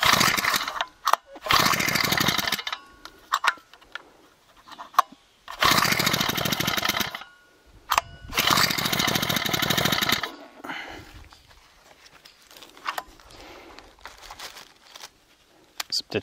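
A GeoTech GT-4 36 BP multifunction petrol brushcutter engine starts and runs in loud two-stroke bursts of a few seconds each, cutting out between runs, while someone talks in the quieter gaps.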